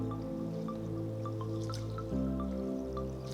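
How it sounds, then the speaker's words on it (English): Water drips and trickles steadily with soft splashes as rice and lentils are washed for dosa batter, a low constant hum running underneath throughout. "Pour some water and wash them well about 2 to 3 times."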